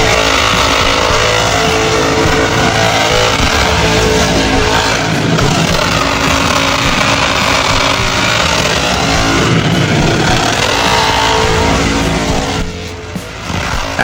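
A diesel truck engine revs hard and loud on hot pavement during a quick test run, a continuous dense roar with screaming, squealing edges that holds steady before dropping off briefly near the end.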